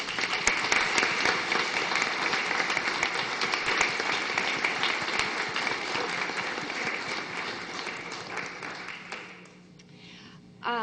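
Sustained applause from an audience at a town meeting, loud and dense for about nine seconds before fading out, with a brief sound at the very end.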